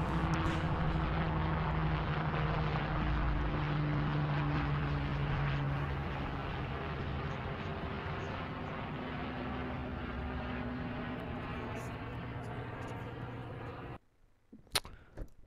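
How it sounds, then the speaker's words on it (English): Helicopter passing overhead, a steady droning rotor and engine hum that holds loud for a long stretch, then fades sharply near the end, leaving a few faint scattered sounds. "there's just a, helicopter passing over by overhead"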